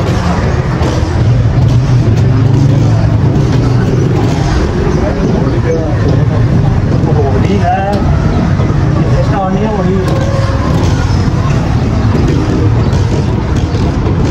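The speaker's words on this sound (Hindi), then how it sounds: "मैं चला हूँ गड्डी की किक मार के" A kick-started motorcycle rides along with a steady, loud engine rumble and road noise that runs without a break, while someone talks over it.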